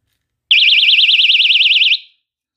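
A keychain personal safety alarm rated at 130 decibels blares a piercing, rapidly warbling electronic siren for about a second and a half, very loud and close, then cuts off abruptly, with no voices.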